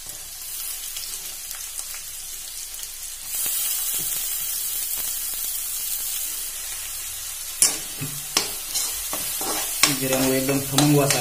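Chopped onion goes into hot tempering oil with cumin for a homemade vermicelli rice dish, raising a loud, sustained sizzle with stirring and clinking of a spoon against the pan toward the end.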